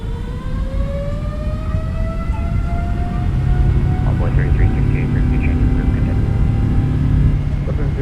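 Jet engines of a PMDG 777-300ER spooling up to takeoff thrust in MSFS2024, a steady loud roar with a rising turbine whine, steady and close throughout.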